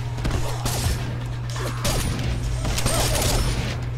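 Rapid gunshots from a character's gun in the Mortal Kombat fighting game, a dense burst of shots over a constant low game hum, loud throughout.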